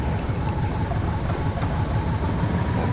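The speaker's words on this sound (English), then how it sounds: "First engine's up and running." A DHC-4 Caribou aircraft engine in Microsoft Flight Simulator runs at a steady idle after start-up, a loud, continuous low drone with no talk over it.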